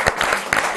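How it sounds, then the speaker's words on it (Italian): Audience applause for badminton players at an Italian racket-sports event, a brief burst of clapping from a crowd, close and steady for under a second. "Facciamo un applauso agli amici del badminton"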